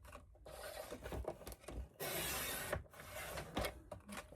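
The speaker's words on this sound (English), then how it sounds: "I'm just going to go ahead and trim that off" Paper edge being trimmed for a keepsake folio, heard as close rubbing, rasping strokes in uneven bursts, with one longer, louder scrape partway through, fairly quiet overall and no talking.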